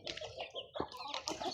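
Adler roosters clucking and calling close by in a short burst of overlapping fowl vocalizations, fairly faint, with no talk.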